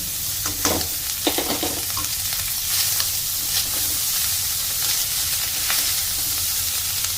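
Cooked rice is stirred and fried in a pan for restaurant-style fried rice, a constant hissing sizzle broken by several scraping stirs of the spatula at irregular intervals, close and loud with no talk.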